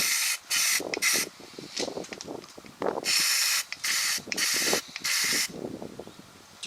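Repeated bursts of Rust-Oleum rust reformer aerosol spray hiss up close onto metal rims, several short and longer sprays with brief gaps and faint handling noises between them.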